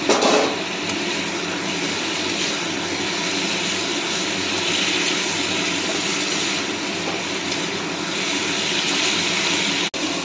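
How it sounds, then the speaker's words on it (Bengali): Water poured into a pan of katla fish curry (kalia) with fried spices, a loud continuous rushing pour running steadily through the whole stretch without any voices. "পরিমাণ মতো জল দিয়ে দিলাম"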